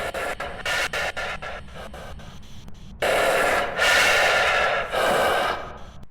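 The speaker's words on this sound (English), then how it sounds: "It also has a unique spirit box response that I'll give you if you're within 1 meter of it." Deogen ghost spirit box response in the video game Phasmophobia, a breathy, raspy snorting and gasping voice in short choppy bursts followed by longer hissing exhalations, close and alone.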